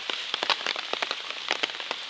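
Rain falling on an open umbrella during a rainy hike on the Appalachian Trail: dense, close patter of drops with sharper individual taps scattered through a steady hiss, no voices.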